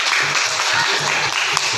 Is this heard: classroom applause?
yes